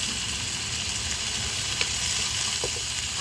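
Tempering of mustard seeds, cumin and asafoetida sizzles steadily in hot oil in a pan for a Gujarati lunch, a dense continuous frying hiss with a few faint pops, close and without talk.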